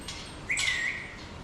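Small pet birds indoors let out one high, thin chirp, brief and fairly close, over a faint room hum, with no voices.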